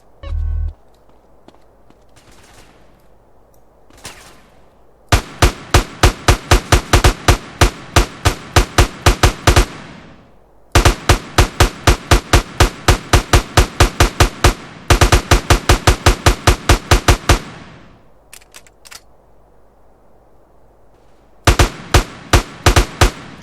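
Bursts of rapid automatic gunfire ring out in a GTA San Andreas zombie mod, loud and close, in several long volleys separated by short pauses, with a few isolated shots in between.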